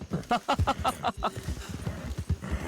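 Horse hooves in the video game Red Dead Redemption clip-clop in a quick, even rhythm, near and clear, fading into softer scattered thuds toward the end.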